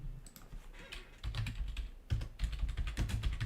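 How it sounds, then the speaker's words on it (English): Typing on a computer keyboard sounds as soft, close keystrokes in short irregular bursts with brief pauses between them, quiet and alone with no voices. "let's say if I'm typing here"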